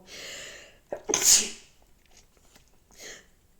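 A woman gives one loud, sharp sneeze during a Bible reading, close to the microphone, with brief quiet voice sounds just before and after.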